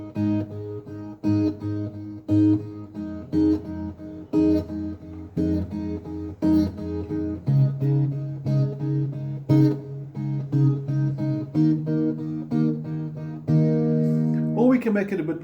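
Guitar playing a song, the chords strummed steadily and clearly with a repeating rhythm at moderate volume, alone without accompaniment.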